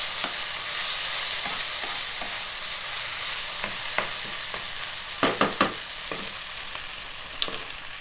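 Vegetarian yellow noodles being stir-fried over high heat on an infrared stove, a continuous loud sizzle with sharp scraping clacks of a spatula against the pan scattered throughout, alone without talk.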